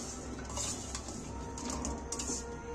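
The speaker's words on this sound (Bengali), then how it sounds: "এইবার আমি এইটাকে ফের নাড়াচাড়া করে নিচ্ছি।" Chicken 65 is stirred in a pan with soy sauce, with a faint steady sizzle under clinking and scraping of a utensil against the pan.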